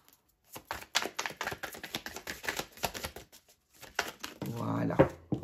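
Tarot cards being cut and shuffled, a string of quick close papery riffles and taps in uneven bursts, followed by a short stretch of speech.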